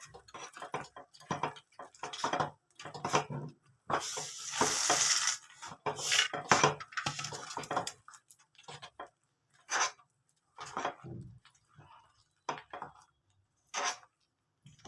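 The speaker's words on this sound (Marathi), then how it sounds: "आता मी शेंगदाणे याच्यामध्ये टाकणार आहे आणि मिक्स करणार आहे" Peanuts tip into a pan and are stirred for jaggery chikki, giving irregular scraping and clattering bursts with quiet gaps between them, near and moderately loud.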